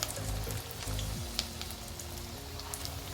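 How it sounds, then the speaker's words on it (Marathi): Spinach and chana dal vadas fry in hot oil, a faint, even crackle and sizzle running unbroken with a low hum beneath. "दुसरी बॅच आपल्याला तेलात टाकायची वड्यांची"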